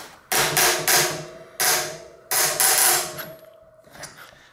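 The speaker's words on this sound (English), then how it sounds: "torque that down to about 40 newton meters with my torque wrench here" A torque wrench tightening a lock ring on a mountain bike hub for disc brake rotors: four loud, close metallic clicking bursts at uneven intervals, followed by softer fading mechanical rattles.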